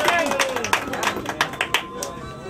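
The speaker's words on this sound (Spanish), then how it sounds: "una para Tania, un aplauso para ella." Brief applause from a small group in a boxing gym, scattered claps rising and fading over a couple of seconds under a noisy room.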